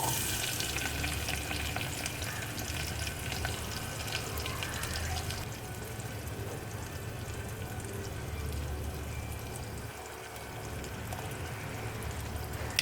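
Onion, mustard seeds, curry leaves and green chilies fry in hot oil, giving a steady, close sizzle and crackle that runs throughout and eases slightly about halfway through, with no talking.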